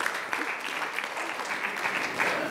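A small audience at an American University student event breaks into steady applause lasting a couple of seconds, fairly soft and even, with faint voices mixed in.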